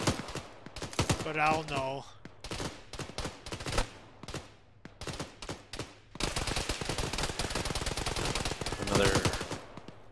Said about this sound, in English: Why do they keep shooting us through these damn walls?